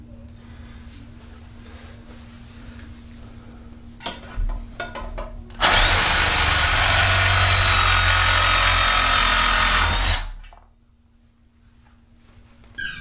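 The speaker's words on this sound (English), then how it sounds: "if you ever have rusty bolts holding your toilet tank to your toilet, the Sawzall is the way to go" A Sawzall reciprocating saw cuts through rusty bolts holding a toilet tank to the bowl, a loud, steady buzzing burst of about four seconds that stops abruptly, with quieter handling clatter before and after.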